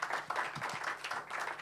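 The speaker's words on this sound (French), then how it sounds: "On peut les applaudir, merci." Audience applause at a French sportech conference on the legacy of the 2024 Olympic and Paralympic Games, a brief burst of moderate, fairly distant clapping from a crowd.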